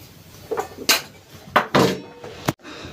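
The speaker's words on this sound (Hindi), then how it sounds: "तब तक मैं अपना सब्जी काट लेती हूँ।" Vegetables being cut in a home kitchen: a handful of sharp, irregular knife knocks and clinks against a board and utensils, close by, with no talking.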